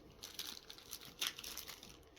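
Spare plastic bags crinkle and rustle inside a zippered mesh compartment of a North East 360 Vertx Overlander bag, a close, steady crackling with brighter bursts, heard alone with no speech.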